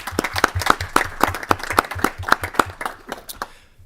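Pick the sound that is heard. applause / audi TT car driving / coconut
applause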